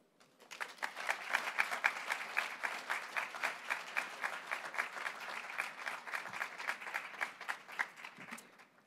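Ceremony audience applauding at a hall re-dedication, steady sustained clapping from a crowd that swells quickly and holds for several seconds, fairly distant and even, with no talk over it.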